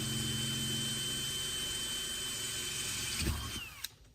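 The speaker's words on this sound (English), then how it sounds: "The next step is going to be drilling our hole so that we can put our eye bolt to hang our lights with." A power drill runs steadily, boring a hole to fit an eye bolt for hanging high bay LED warehouse lights, then slows and stops near the end.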